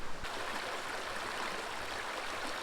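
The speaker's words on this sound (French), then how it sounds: "Le doux son de la rivière et de la nature" A river in the Black Forest flows with a steady, soft broadband rush and gentle gurgle, continuous and fairly faint, with no voices.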